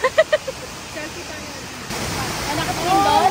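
The Rain Vortex indoor waterfall in Singapore pours as a broad, steady rushing roar that swells louder after a few opening beeps, with voices talking over it.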